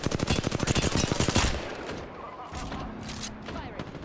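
Rapid automatic gunfire in Apex Legends rattles loudly for about a second and a half, a dense burst of close shots, followed by quieter distant pops and game ambience.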